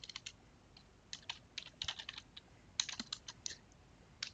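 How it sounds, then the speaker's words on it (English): Someone types a website name on a computer keyboard, a quiet, close run of irregular key clicks in short clusters with small pauses and no talking. "So maybe I'll type in Flayed Industries"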